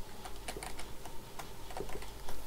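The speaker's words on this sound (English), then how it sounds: "I'll type it in chat." Fingers type on a computer keyboard, a close, quick irregular clatter of key taps with short pauses, alone without speech.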